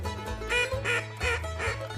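Gray mallard ducks quack in a steady run of loud, close calls, four or five rhythmic quacks within two seconds, with no voices over them.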